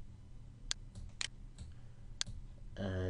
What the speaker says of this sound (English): I'm gonna click on start